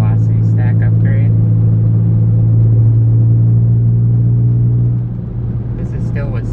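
BMW E46 M3 with stock headers and a 9-inch intake and velocity stack, cruising on the road: a steady, loud, deep engine drone inside the cabin that eases slightly near the end, with someone talking briefly at the start and finish.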